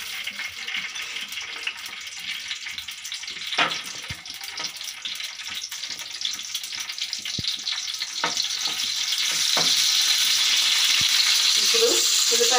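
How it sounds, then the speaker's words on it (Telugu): Green chili pieces sizzle in hot oil for a fish curry, a steady frying hiss that thickens and grows louder toward the end, with a few sharp clinks of a spoon stirring. "ఇందులో పచ్చిమిర్చి ముక్కలు వేసుకుందాం"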